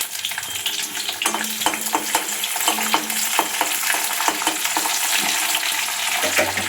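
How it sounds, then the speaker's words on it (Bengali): Green and dried chillies with mustard seeds hitting hot oil, a loud, dense sizzle with popping seeds and scraping stirs building steadily, with no voices over it. "তেলটা তেতে গিয়েছে, এবার এগুলো ফোড়ন দিয়ে দেব"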